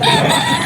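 A gamecock, a young full stag among birds offered for sale at a Bocaue cockfighting market, gives a short, loud crow up close, filling the brief moment on its own.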